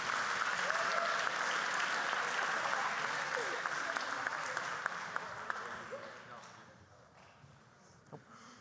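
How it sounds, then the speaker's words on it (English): A symposium audience breaks into strong, sustained applause that gradually thins and fades out over the last couple of seconds, leaving a quiet room with a faint knock. "Let's give them a round of applause."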